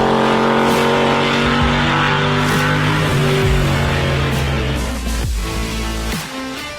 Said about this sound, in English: Those car sounds.